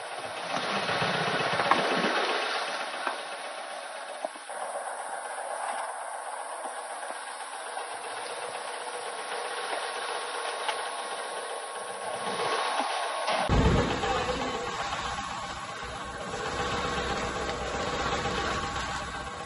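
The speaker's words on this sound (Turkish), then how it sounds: "Yoğurmadan makine yoğuruyor sadece." A machine kneading tarhana dough runs steadily with a continuous engine-like hum and vibration, loud and close, its tone shifting partway through; no one speaks.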